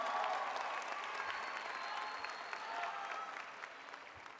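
Graduation audience applauding a teacher in a large hall: sustained, fairly distant clapping from many hands, steady and gradually thinning toward the end, with no talk over it.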